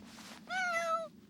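A cat gives a single clear, drawn-out meow lasting about half a second after a brief soft noise, close and fairly quiet.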